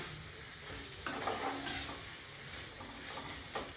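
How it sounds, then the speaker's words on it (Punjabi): Taro (arbi) curry is stirred in a kadai, with a soft continuous sizzle and a few scraping strokes of the spoon against the pan. Each stroke is moderately close and sounds alone, without speech. "ਬਸ ਇਸੇ ਤਰ੍ਹਾਂ ਆਪਾਂ ਹਿਲਾਈ ਜਾਣਾ ਹੈ ਵਿੱਚ ਵਿੱਚ ਤਾਂ ਜੋ ਸਬਜ਼ੀ ਨਾ ਜਿਹੜੀ ਕੜਾਈ ਦੇ ਨਾਲ ਲੱਗੇ"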